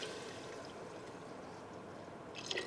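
Homemade chicken broth is poured from a container into a pot for potato soup, a soft, steady liquid hiss that runs quietly for a few seconds with a slight splash near the end and no talking.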